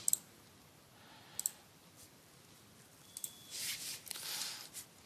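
A computer mouse clicking in medical code-documentation software, with a few sharp isolated clicks, some in quick pairs, then soft rustling handling noise toward the end, all close and fairly quiet.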